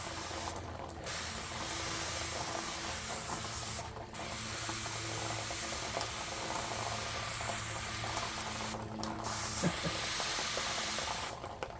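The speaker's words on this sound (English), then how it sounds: "I am spraying the ground around me" A garden hose sprays cold water onto the ground outdoors in hot weather, a steady broad hiss continuing with a few brief pauses, close and without talk.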